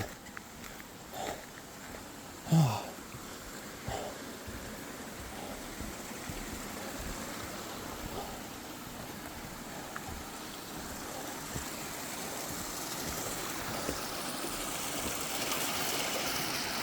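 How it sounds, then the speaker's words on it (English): A small babbling brook beneath a footbridge near Tuckerman's little waterfall on Mount Washington, with steady rushing water noise and a few brief bumps near the start. "Just a little babbling brook."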